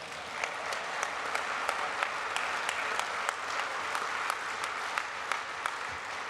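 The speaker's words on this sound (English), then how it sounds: "If you want to applaud," Audience applause at a union conference in Chicago, steady even clapping heard from a distance with a few sharper claps standing out, faint and unbroken throughout.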